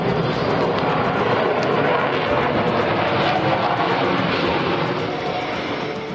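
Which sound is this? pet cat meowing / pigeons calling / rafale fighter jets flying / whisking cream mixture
rafale fighter jets flying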